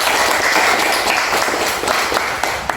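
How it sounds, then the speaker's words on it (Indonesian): Short burst of applause from a class of students, many hands clapping close and fairly loud, fading slightly toward the end. "Tepuk tangan untuk kita semua."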